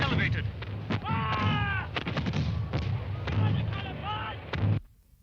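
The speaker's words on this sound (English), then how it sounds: "The rebel cannon have opened fire." Rebel cannon fire at the Battle of Culloden, heard as a dense barrage of booming shots and thuds with shouting voices over it, ending abruptly.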